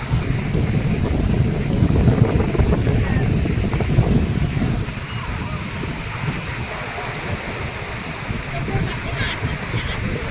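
Sea waves at a beach in Puducherry roll in as a loud, continuous surf roar with gusty wind buffeting the microphone, swelling slightly in the first half before settling into a steady wash.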